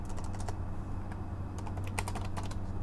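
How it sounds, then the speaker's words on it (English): Fingers tap out a name on a computer keyboard: a quick, uneven run of light key clicks, close and clear, with a faint steady hum underneath and no voices. "type the name"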